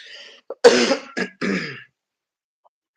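A few harsh coughs and throat-clearing bursts in quick succession, close by, followed by silence.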